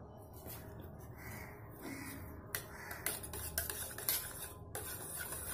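A spoon stirs a finely ground paste of gram dal, chilli, ginger and cumin into a mixture for vadai mor kuzhambu, giving soft scraping and clinking against the vessel, with a few sharper knocks toward the end.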